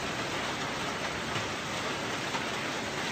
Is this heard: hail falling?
yes